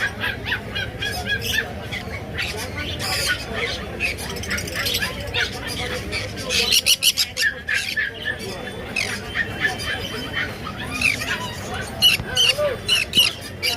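Many lovebirds squawk and chatter at a crowded bird market, sharp calls overlapping continuously with people talking nearby throughout.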